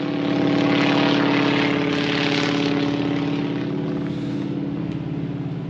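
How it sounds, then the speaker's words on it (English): An old radial aircraft engine runs steadily nearby, a loud, dense, throbbing drone that holds even for several seconds and eases slightly toward the end, with no voices. "there is nothing like the sound of an old radial engine"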